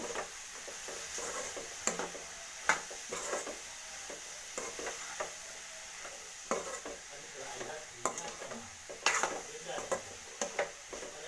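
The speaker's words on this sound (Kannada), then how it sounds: "ಇವಾಗ ಇದನ್ನು ಚೆನ್ನಾಗಿ ಮಿಕ್ಸ್ ಮಾಡ್ಕೋಬೇಕು" Garam masala and chilli powder are stirred into bitter gourd gojju in a pan: irregular scraping and clinking of a spoon against metal over a soft sizzle, close and fairly quiet, with a few sharper knocks.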